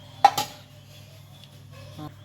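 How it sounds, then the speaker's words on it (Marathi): Dry dates and edible gum stirred in a metal pan with a spoon, two quick clinking scrapes near the start and a softer scrape near the end, close and otherwise quiet. "खारीक याच्यातच आणि डिंक आणि याला फिरवणार आहे"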